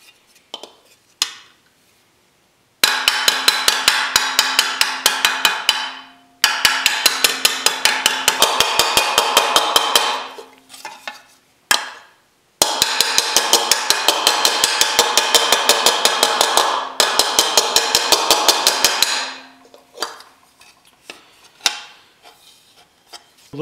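Repeated hammer blows on a sheet metal motorcycle fender held over a dolly, struck with the rounded side of the hammer by hand: long runs of rapid, evenly spaced ringing metallic strikes, close and loud, separated by short pauses.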